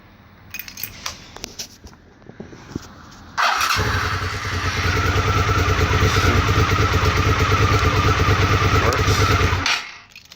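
A motorcycle fitted with an aftermarket Chinese speedometer/tachometer starts up after some light clattering, then idles loud and close with a steady rumble for several seconds before it shuts off.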